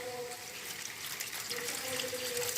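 A little water is poured into a soy sauce mixture, a short close splashing trickle of liquid, steady for a couple of seconds with no talk over it.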